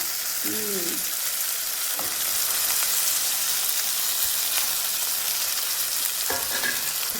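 Masala frying in a pan as kidney beans are tipped in, a loud continuous sizzle with scraping stir sounds and a few clinks of a utensil, close by; a voice briefly heard.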